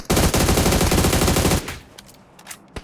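Rapid automatic gunfire from PUBG rattles in a loud, fast, close burst for about a second and a half, followed by a few scattered sharper shots.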